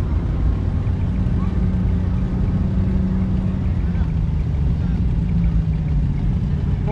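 An Allis-Chalmers D14 tractor fitted with a loader idles at an outdoor steam show, its low engine rumble steady and continuous, with crowd murmur and wind in the background.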